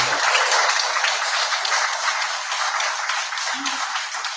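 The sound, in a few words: round of applause for the President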